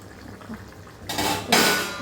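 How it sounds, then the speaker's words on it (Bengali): A metal lid is lifted off a kadai of simmering chicken-gizzard and egg curry, a short clank followed by a brighter rattle and hiss as it comes free, close and clear with no talking. "এবারে আমি কড়াইটাকে খুলবো আস্তে করে"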